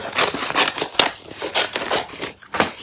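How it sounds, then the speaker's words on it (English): Scissors snipping through a sheet of newspaper in a steady run of crisp, close cuts with a papery rustle, about seven strokes in under three seconds, no talking. "You're going to take your piece of newspaper and you're just going to cut it"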